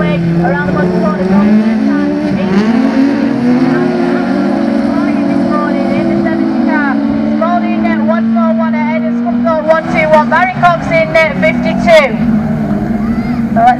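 Autograss race cars in a class 7 final race at Nottingham, several engines droning and revving together in layered whines that rise toward the end, with a commentator talking over them throughout.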